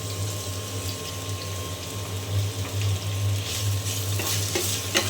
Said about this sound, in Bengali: আর এখানে আমি আলু ভাজি করার জন্য তেল দিয়ে দিয়েছি। এখন আমি আলু দিয়ে দিলাম।